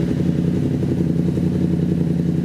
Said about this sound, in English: Check out how it idles now.